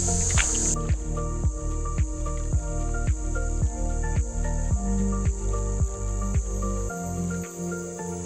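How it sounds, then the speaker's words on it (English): Insects chirp in a calm mangrove lagoon by Percy Island, a dense, continuous high-pitched drone with a steady pulsing rhythm, close and loud, with a brief knock at the start and no talking. "It's so peaceful. All we hear are bugs."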